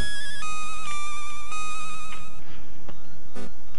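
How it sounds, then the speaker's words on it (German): A telephone rings in the Pokémon Yellow game, a loud electronic ringtone with repeated bright tonal bursts that sound alone without any talk. "Oh, Telefon, ich gehe jetzt aber nicht dran,"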